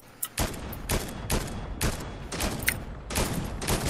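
Rapid bursts of video game gunfire in a hill-capture shooter match, several volleys of shots cracking in quick succession with brief gaps between, loud and close with no talk over them.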